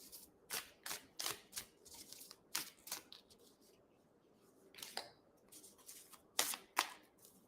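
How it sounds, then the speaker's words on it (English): Tarot cards being handled and drawn from a deck: a series of crisp, close slapping and riffling bursts in irregular clusters, fairly faint, with quiet pauses between and no talk. "I'm just going to pick 3 cards."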